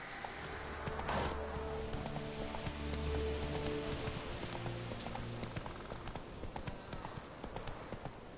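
Horse hooves clip-clop at a steady trot in The Witcher video game, loud and close over rain-like background ambience, while a voice speaks briefly now and then.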